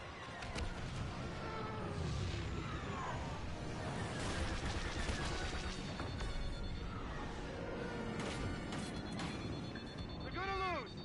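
Blasters fire in rapid bursts throughout a Star Wars Battlefront 2 video game battle, with zapping laser shots and impacts layered over a busy mix of effects and voices.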